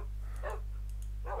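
Dogs barking in the Minecraft video game, a couple of short yappy barks in quick succession over a steady low game hum, fairly close and clear.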